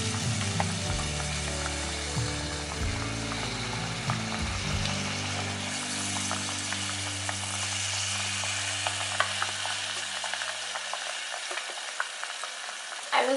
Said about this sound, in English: put 1 by 1 Malpua in this and will fry it